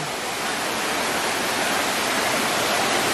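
A Nigerian waterfall roars in a steady, dense wash of rushing water, loud and unbroken throughout with no voices.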